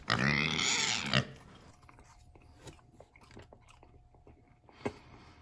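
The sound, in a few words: chewing gum from a 1990 Topps baseball card pack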